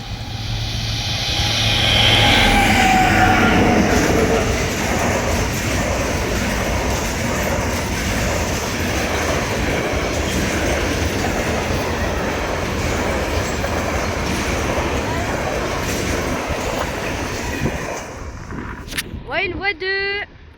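A freight train runs past a level crossing on a two-track line, a loud, steady rumble and clatter of wagons close by that holds for most of the pass before fading at the end, with a voice speaking over it.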